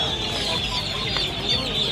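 Chickens at a pet bird market cluck in a busy, continuous chorus, close and fairly loud, with no talking.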